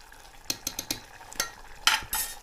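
A wild leafy vegetable cooks in a pan, giving a quiet background with a few short stirring clinks and brief bursts of sizzle, close and moderately loud.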